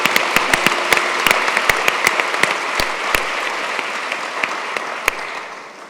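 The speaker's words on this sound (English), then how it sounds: "A big round of applause." A conference audience at an education forum's opening plenary applauds loudly, crisp individual claps popping out of a dense steady wash that begins to thin toward the end.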